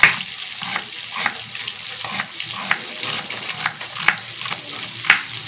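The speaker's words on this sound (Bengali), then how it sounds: "একই প্রসেসে বাকি মাছটাও ভেজে নিই।" Pabda fish frying in oil in a pan, a close, continuous sizzle with scattered sharper pops and crackles.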